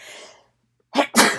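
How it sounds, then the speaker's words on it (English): A single close, loud sneeze comes in two sharp bursts, a quick inhale then a forceful blast, after a brief breathy sound and a moment of silence. "excuse me, that was a sneeze"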